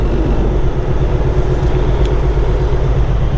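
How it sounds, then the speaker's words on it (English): A truck engine rumbling loudly while parking a trailer, a heavy, steady low drone filling the cab at close range with no pauses. "the truck's been so loud at the minute now"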